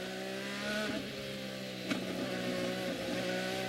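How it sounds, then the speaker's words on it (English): An IndyCar race car at the Honda Indy Toronto, driven cautiously on a wet, slippery street circuit, its engine droning steadily under gentle throttle with a brief sharp blip midway, fairly close and continuous. "Listen to how gingerly and how respectfully James Hinchcliffe is applying that throttle"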